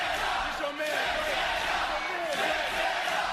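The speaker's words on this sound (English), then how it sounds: "There's another NXT crowd chanting for Santana" A live NXT wrestling crowd chants for Santana, a dense, steady roar of many voices that holds loud and unbroken throughout.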